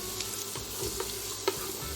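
Diced carrots and onions sweat gently in butter in a pan, giving a soft, steady sizzle broken by a few light stirring taps.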